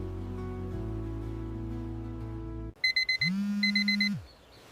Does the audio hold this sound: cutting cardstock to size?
no